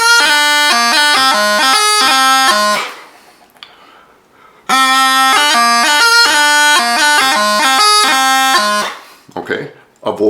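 Highland bagpipes play the first two bars of the reel Thomson's Dirk, loud and close, with bright melody notes over the drone. The phrase is played twice with a short pause between, and a few stray sounds follow.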